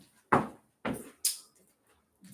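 A door in a family home thuds shut in three sharp, separate knocks over about a second, close and fairly loud against an otherwise quiet room.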